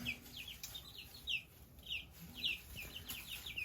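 A silver-laced Wyandotte hen makes soft, faint clucks under a busy backdrop of higher bird chirps that repeat every second or so.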